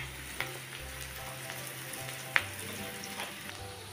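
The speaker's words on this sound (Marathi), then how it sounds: "तेल घेतलं होतं त्यामध्ये मी घालते 2 कांदे बारीक कापून घेतले, ते आपण घालूया।" Two finely chopped onions frying in oil in a home kitchen pan for an egg curry, a steady close sizzle with faint clicks of stirring and no talking.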